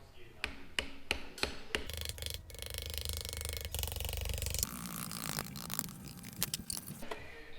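Sharp mallet taps on a chisel prying at a Mazda 13B rotary engine part from an RX-7 FD, several distinct close knocks early, then a stretch of metallic scraping and rattling with a few more taps near the end.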